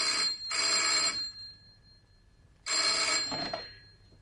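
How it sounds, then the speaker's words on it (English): A telephone bell rings in two long bursts separated by a pause, fairly clear and alone in a quiet room. "Then late this afternoon, the phone rang."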